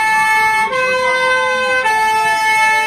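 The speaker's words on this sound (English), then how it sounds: "Sounds like an ambulance" Algeria's emergency alert alarm plays as a loud, ambulance-like siren with a rising and falling wail, sounding continuously and close with brief tonal shifts, no voices.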